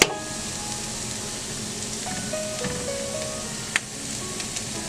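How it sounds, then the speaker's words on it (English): Ragda patties shallow frying in a pan give off a steady, close sizzle that holds an even level throughout, with small pops and one sharper crackle near the end, and no talking. "We have to shallow fry them like this."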